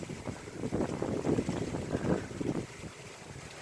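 Gusting wind during a freezing-rain and sleet ice storm, rumbling and buffeting in uneven surges, loud at first and easing slightly toward the end, with no voices.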